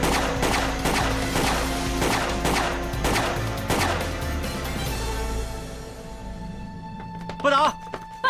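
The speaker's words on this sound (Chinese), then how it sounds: "我开枪了！" A rapid string of evenly spaced gunshots rings out in a tense police-drama scene, roughly eight sharp reports over a droning score, then tailing off before a burst of shouting.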